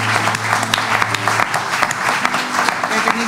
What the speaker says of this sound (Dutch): Ik vind dat we daar eerst voor mogen klappen